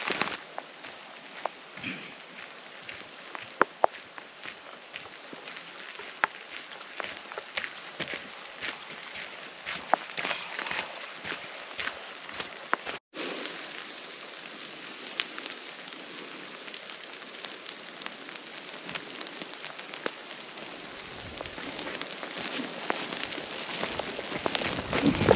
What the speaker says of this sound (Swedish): Nu kommer en liten regnskur igen också.